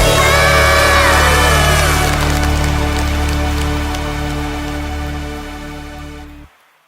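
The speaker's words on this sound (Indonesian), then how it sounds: "Yang bersukacita, tepuk tangan buat Tuhan Yesus." Congregation clapping for Jesus during a morning devotion, a dense steady wash of many hands mixed with music and voices, loud throughout before cutting off abruptly near the end.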